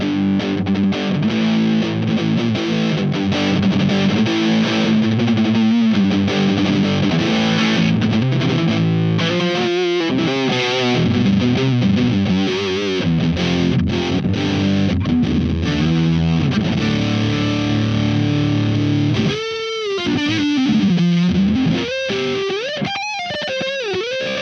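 Electric guitar played through a Fender HammerTone Metal distortion pedal with bass turned all the way down and treble all the way up, giving a loud, continuous saturated tone with sustained chords and bending lead notes, no talking.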